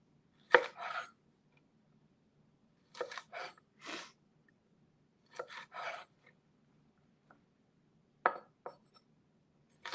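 Onions chopped with a knife on a cutting board for a sausage, tomato and spinach soup: short bursts of crisp rapid strokes in several separate groups with pauses between, close and fairly quiet.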